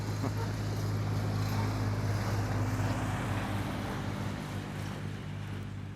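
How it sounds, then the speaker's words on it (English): A tractor engine drones steadily nearby on a field at Grunwald, Poland, with a low, even hum, slowly fading slightly as it moves past. "Let the tractor go by."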